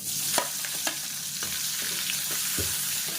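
Steady sizzling of chopped large onion frying in a hot pan, with a few clinks of a spatula stirring against the metal.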